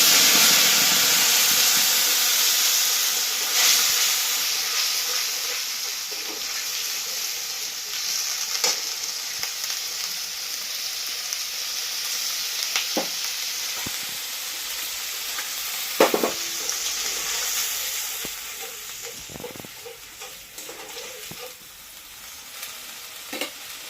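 Ginger, garlic, onion and chili paste fry in hot oil for a spicy rohu fish curry, producing a loud, steady sizzle and hiss that slowly eases, with occasional stirring clatters up close.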